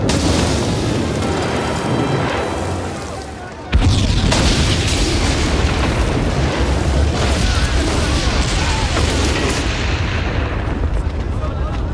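Heavy explosion from an action adventure series, a loud broad blast bursting in suddenly and rumbling on as a sustained roar, with voices shouting over it.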